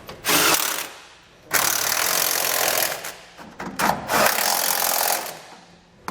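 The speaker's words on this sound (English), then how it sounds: "we can also tighten down those side bolts that we had loosely installed" Ratchet and socket tightening trailer hitch bolts on a pickup frame, in loud bursts of rapid clicking separated by brief pauses, close up with no talking.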